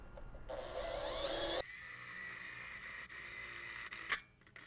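A short, high whirring drill run drilling a pilot hole lasting about a second, then a quieter winding-down hum and a small clatter, close and moderately loud.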